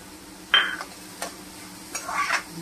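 Moong dal is stirred in a cooking pot with a spoon, producing a few distinct scraping swishes and a light clink against the pot over a faint low sizzle, close and intermittent.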